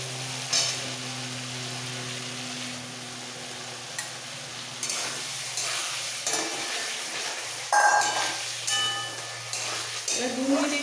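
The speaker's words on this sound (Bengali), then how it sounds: "এবার 2 মিনিট একটু কষিয়ে নেবো।" Ground spice paste and fried potatoes sauté in a pan for jackfruit curry, a low steady sizzle with intermittent stirring scrapes and utensil clinks that grow busier toward the end, with a steady hum in the background.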